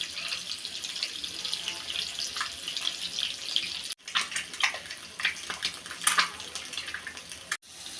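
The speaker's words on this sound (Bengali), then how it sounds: "ডিম সেদ্ধ করে ভেজে নিচ্ছি।" Boiled eggs frying in hot oil in a pan, a continuous sizzling hiss with sharper spitting crackles and pops growing in the second half.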